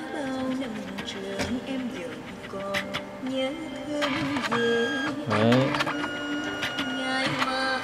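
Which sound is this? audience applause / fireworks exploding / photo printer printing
photo printer printing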